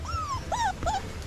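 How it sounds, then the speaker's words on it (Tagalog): Dogs whimper in three rising-and-falling whines, close and fairly clear over a low steady background hum, with no talk. "Yung mga aso, nababaliw yung mga aso."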